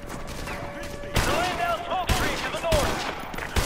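Call of Duty firefight: loud bursts of automatic gunfire cracking close by in rapid clusters, with sharp impacts and whistling ricochets, mixed with game voices calling out.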